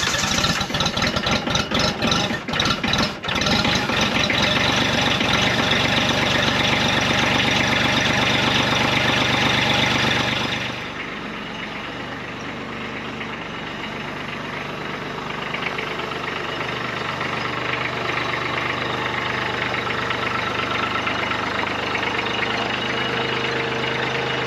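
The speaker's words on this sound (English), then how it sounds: "Tractor should be all warmed up now." A Kubota B2601 tractor's diesel engine idles loudly and steadily with a knocking chug while warming up; the tone drops and settles into a lower, smoother idle partway through.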